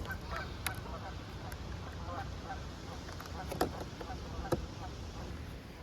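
Ducks playing on water outdoors, faint honking and quacking calls popping up now and then over a low, steady rumble of background noise, distant and quiet.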